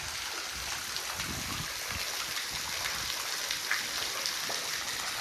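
Water of the Purna river falls near the Mayadevi cave in Dang, Gujarat, a continuous rushing splash heard at moderate distance, steady and unbroken with no voices over it.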